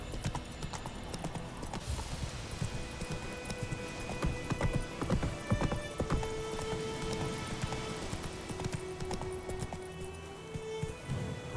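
Roach, a horse in The Witcher 3, gallops with steady, driving hoof clip-clop over a dense bed of ambient game noise and a soft rain-like hiss, with a faint whinny and sustained tonal music partly blending in.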